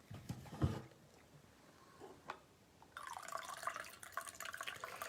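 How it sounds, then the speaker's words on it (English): Coffee being poured from a home coffee pot into a cup, a splashy liquid stream that starts mid-clip and runs steadily to the end after some faint clinks and drips, close by with no talk. "I'm going to pour some more coffee."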